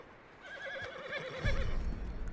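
A horse neighs in Red Dead Redemption 2, a wavering whinny carried over game ambience, followed by a louder low rumble as it stirs.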